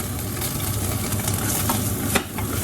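Onions fry in a pan while being stirred, with a dense, steady sizzle close by and a sharper scrape of the stirring near the end.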